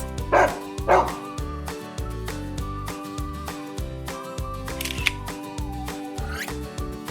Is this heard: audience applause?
no